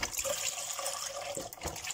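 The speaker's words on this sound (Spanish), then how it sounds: "El litro de leche para adentro" Milk, a full litre, poured into a medium cooking pot for ham croquettes, a steady liquid splash and gurgle running unbroken for a couple of seconds at moderate level, with no talking.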